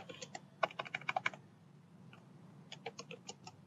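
Bursts of quick key clicks on a computer keyboard as a name is typed in, a fast flurry followed by a pause and then another run of keystrokes, close and fairly quiet with no talking.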